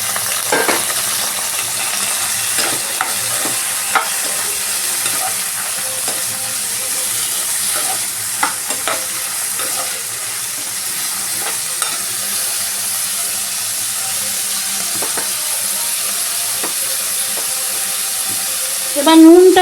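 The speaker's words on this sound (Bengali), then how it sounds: "এবার আমি ভেজিটেবলসগুলোকে দিয়ে দিচ্ছি এর মধ্যে।" Vegetables for a coconut milk stew hit a hot pan and are stirred, a steady loud sizzle with occasional spoon scrapes throughout.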